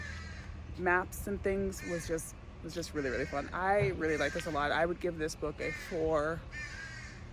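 Crows cawing outdoors in the Pacific Northwest, repeated harsh caws scattered throughout, moderately loud behind someone talking steadily close to the microphone.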